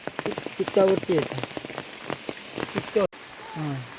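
Heavy monsoon rain patters steadily on a surface in a Konkan village underneath a person talking close by, the downpour continuing in the background throughout.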